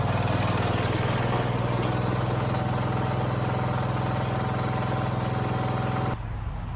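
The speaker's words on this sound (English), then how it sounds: "As you can see, the tractor's running good now." A Cub Cadet 149 tractor's Kohler K321 engine runs steadily at a constant idle after a carburetor replacement, loud and close, with an even droning hum throughout and no voices.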